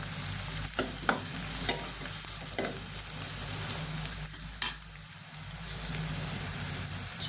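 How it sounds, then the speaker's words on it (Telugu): Onions fry in a pan for a Gongura chicken and liver curry, a continuous sizzle broken by occasional stirring scrapes and taps, close and moderate with no talk. "ఉల్లిపాయ వేగిందో లేదో చూద్దాం చూడండి."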